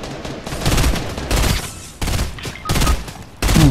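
Gunfire in the video game Fortnite, several loud sustained bursts of rapid shots separated by short gaps, close and dominant.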